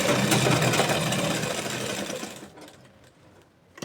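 A sewing machine runs loud and fast, stitching a straight seam on a ladies' palazzo pant, then stops abruptly, leaving only faint rustling and handling noise.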